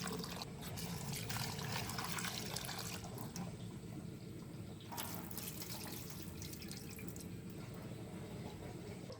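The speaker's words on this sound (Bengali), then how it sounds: "5 পিস মাছ নিয়ে ধুয়ে নিলাম।" Water runs steadily from a tap while fish pieces are being washed, a continuous close splashing stream with light clinks and drips, no talking.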